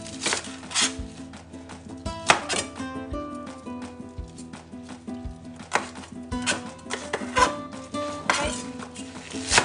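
A knife trims the ends off a big bunch of spring onions on a board, giving sharp irregular chopping taps at close range over a steady tonal music bed.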